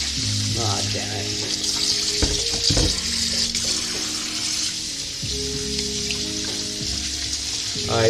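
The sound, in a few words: cold water running from a kitchen tap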